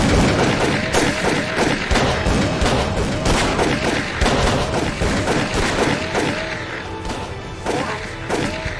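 Rapid volleys of gunfire in the horror game Call of Cthulhu: Dark Corners of the Earth, loud and dense shots with thuds and impacts, mixed with shouting voices throughout.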